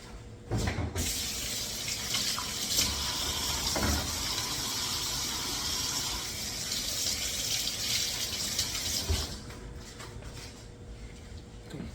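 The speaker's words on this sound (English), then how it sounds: "I wash my hands." Hands are washed under a running kitchen tap, giving a continuous close splashing gush that starts abruptly, runs for several seconds and then stops, with no voices.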